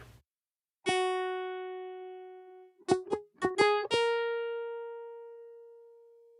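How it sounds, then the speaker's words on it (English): A synthesized tone blends a sawtooth wave with a guitar-like timbre: one long sustained note, then a quick run of short plucked notes, then another long held note fading out, clean and alone. "the final product resembles an ambiguous timbre between the sawtooth and the guitar"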